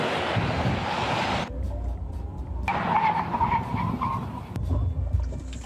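A NIO ET7 electric car in Sport Plus mode pulls away hard, giving a loud, sustained rush of road and tyre noise with wind roar that swells again partway through, close and continuous with no talking.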